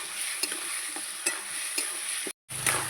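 Potatoes are sautéed with spices in a pan outdoors, with a steady high sizzle and regular scraping strokes of a spatula stirring every half second or so. The sound cuts out briefly near the end.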